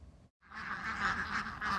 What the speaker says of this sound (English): This army of around 500 Indian runner ducks has a taste for snails